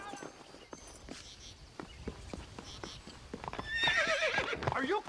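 A horse whinnies loudly near the end amid the clip-clop of hooves in the Red Dead Redemption video game, with a steady wash of background game sound throughout.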